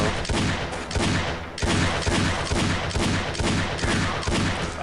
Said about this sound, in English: Barney's shooting at the zombies that are down there.